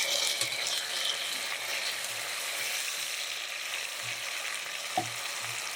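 Tomatoes dropped into a pan of sautéing onions while cooking mutton biryani; a steady, bright sizzle and crackle of frying fills the clip, with a few soft stirring knocks and no talk.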